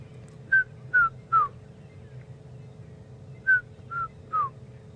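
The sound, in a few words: red-chested cuckoo call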